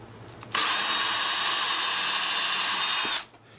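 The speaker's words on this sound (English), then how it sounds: "you'll drill you a hole" A power drill bores a screw-length hole in material for a homemade clay beveler, its steady high whine running loud and unbroken for about two and a half seconds before spinning down.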